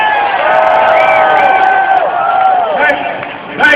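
Rally crowd of Democratic Caucus supporters cheering and whooping loudly and continuously, with a few shouts rising near the end.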